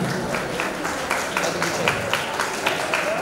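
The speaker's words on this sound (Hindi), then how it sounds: "ताली बजाइए सब लोग" Audience clapping at an award show in a resort hall, a steady patter of many hands with some louder individual claps, continuing evenly throughout.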